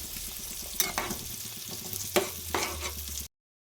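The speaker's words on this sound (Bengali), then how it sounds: "দেখো এখনই আগে থেকে ভেজে রাখা মাছগুলো ঝোলের মধ্যে দিয়ে দিলাম।" Pre-fried fish pieces go into a bubbling fish curry gravy in a pan, with a steady sizzle and several sharp clatters and scrapes of stirring close by, and no talking.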